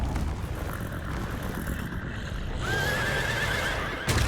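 A horse whinnies in the video game Little Goody Two Shoes, a single rising-then-wavering neigh over steady rumbling game noise and hoof-like clatter, ending with a brief sharp hit.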